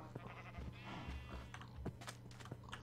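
Faint sheep bleats from a Minecraft-style modded game world, a wavering call amid quiet background game sounds.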